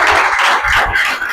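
Church congregation clapping together in rhythm, a dense, loud burst of many hands filling the room for a moment.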